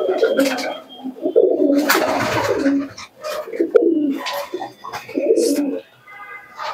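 Star Kalanka pigeons coo in a loft, soft repeated throaty calls in bursts throughout, close by, with some rustling and a few faint background sounds.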